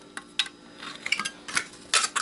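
Metal snips crunch through aluminum from an Xbox 360 power supply in a handful of short, irregular cuts, crisp and close with quiet pauses between bites.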